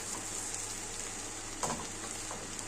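Onions frying in fat alongside chicken gizzards, a steady close sizzle with brief stirring scrapes partway through.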